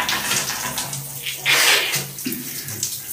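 Water from a tap or hose runs and splashes over a person's head and body, gushing in uneven bursts with a louder surge midway.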